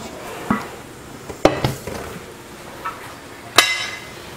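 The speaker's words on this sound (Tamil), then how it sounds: "ஒரு தோசைக்கல் வச்சிடலாம்." An iron dosa tawa is set down onto a kitchen stove, making a few sharp metallic clanks and clatters spaced over several seconds, with the loudest knock near the end and no talking.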